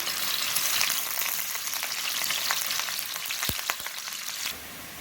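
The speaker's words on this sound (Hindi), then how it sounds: "प्याज़ों को अच्छा सा मैं गोल्डन फ्राई करूंगी" Chopped onions fry in hot oil for mutton yakhni pulao, a steady dense sizzle close up with a couple of brief stirring knocks near the end before it drops slightly quieter.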